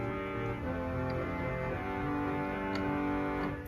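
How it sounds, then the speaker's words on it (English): The Swell Vox Humana stop on a 1922 Skinner/1950 Moller pipe organ sounds a sustained chord with soft shifting harmonics and a gentle tremulant, steady and moderately quiet throughout. "There's the Swell Vox Humana."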